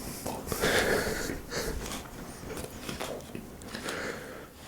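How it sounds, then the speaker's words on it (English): Someone bites into an apple near a microphone with a crisp crunch, followed by chewing and breathy mouth noises, loud and close. "That was a good crunch"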